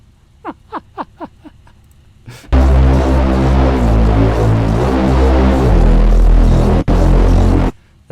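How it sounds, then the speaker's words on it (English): An electric toothbrush sample played alone in Serum: a loud, steady, harsh buzzing tone that starts abruptly after a few brief clicks, holds for about five seconds with one momentary dropout, then stops sharply. "what is just the electric toothbrush sound?"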